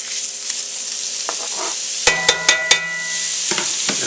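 Steak frying in a pan alongside onions and peppers, a steady close sizzle with four sharp metallic clinks of a utensil against the pan in quick succession, with no talk.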